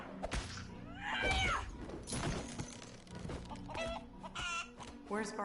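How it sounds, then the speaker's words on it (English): Chickens cluck and squawk in a Lego Marvel's Avengers game, with several short bursts from the birds over a low game backdrop and brief thumps, close and clear. "Chickens."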